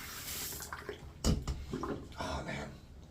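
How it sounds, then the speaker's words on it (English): A soaked shaving brush full of tallow soap lather is rinsed under running water, giving splashy, uneven gushes with a louder swish midway, close and fairly quiet, with no talking. "I have to get all that proto lather out, rinsed out"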